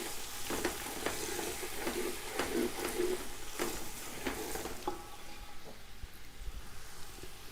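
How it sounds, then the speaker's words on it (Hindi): Close, steady sizzle of spices frying in oil for chana pulao with dried plums, broken by spoon scrapes and clinks against the pot as it is stirred. "इसे भी मिक्स कर लेंगे।"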